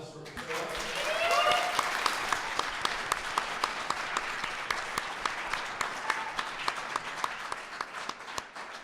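An audience applauds after a startup pitch at a final pitch competition, dense clapping that swells early and holds steady, with a voice briefly heard at the start.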